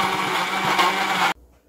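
A kitchen blender grinds kimchi seasoning of cooked rice, salted shrimp and onion juice for radish and napa cabbage kimchi, making a loud, steady whir that stops abruptly after just over a second.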